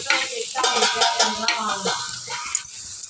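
Milk poured into a hot pan sizzles and hisses up close, with a bubbling crackle and scraping stir strokes over a few seconds.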